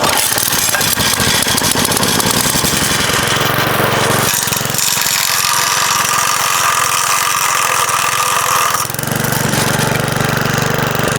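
McLane blade edger's gas engine, loud and close, running with a continuous buzzing drone that shifts in load a few times across the stretch, no voices.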